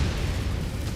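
A single heavy artillery blast in a mech combat video game, loud and close, a dense low booming rumble filling the whole moment without a break.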